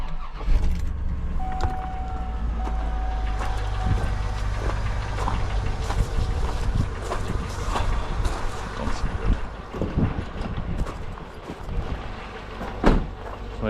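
A big block V8 engine rumbles deeply nearby, idling and revving with a heavy low throb, wind buffeting the microphone.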